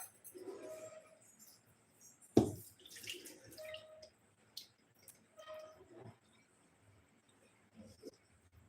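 Water poured over steamed idli in a kitchen and then drained off, with soft splashing and trickling, a sharp clatter partway through, and faint intermittent drips and handling noises, quiet and close.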